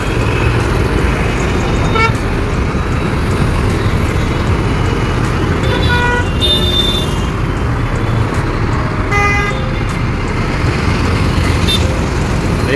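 Busy Pune bus stop with city buses and steady dense roadway traffic, a continuous loud rumble punctuated by several short horn toots, including one around the middle and another near the end.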